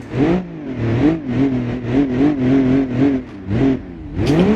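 An SUV engine in the BeamNG.drive driving game revs repeatedly on an icy, snowy road, rising and falling in steady throttle pulses that stay loud and close, with a final surge at the end.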